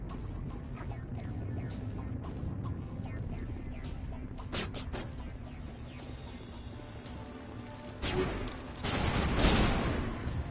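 Gunfire in the Mass Effect video game, with scattered shots and bursts crackling over a constant low rumble and a louder flurry toward the end, with no speech.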